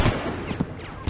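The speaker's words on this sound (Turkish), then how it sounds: "Birileri daha ateş ediyor bize." Gunfire crackles in the Far Cry video game: three short, punchy shots spaced roughly half a second apart, close and fairly loud over a steady noise bed.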